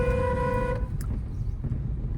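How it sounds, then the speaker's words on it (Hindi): A car horn blares in one long steady honk for under a second during a driving lesson, then the engine rumble continues with traffic noise. "लॉन्ग हॉर्न प्रेस करो"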